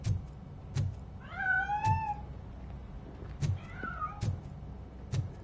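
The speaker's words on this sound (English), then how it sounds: "That cat must be hiding inside." Two drawn-out wailing meows from a cat in the video game RoboCop: Rogue City, heard alone over faint game ambience with sharp periodic clicks.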